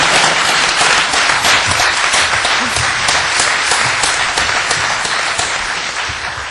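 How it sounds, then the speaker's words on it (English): Sustained audience applause for a speaker and panel at a University of Minnesota event, loud and steady with dense clapping throughout, tapering off slightly toward the end. "Please join me in giving our speaker and panel a round of applause."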